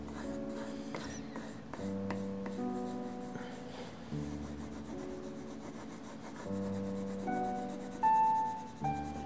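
Pencil strokes blending colours on paper while shading a sphere drawing, a close, continuous series of curved scratchy rubbing strokes in an uneven rhythm with short pauses between them.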